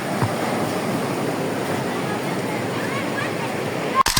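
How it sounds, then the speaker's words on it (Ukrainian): Ocean surf rolls in steadily on Bakio beach on the Basque coast of northern Spain, a continuous loud wash with wind buffeting the microphone and a brief sharp knock near the end. "Тут неймовірні хвилі."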